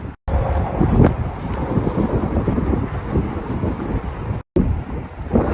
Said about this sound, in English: It's very windy out, so I don't know if you're gonna hear.